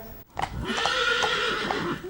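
A horse gives a loud, close whinny that wavers for nearly two seconds, with clip-clopping hooves beneath it.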